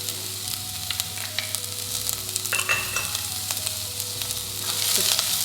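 Onion and garlic frying in olive oil for a tomato sauce, a steady close sizzle with scattered crackles and occasional spoon scrapes in the pan, no talking.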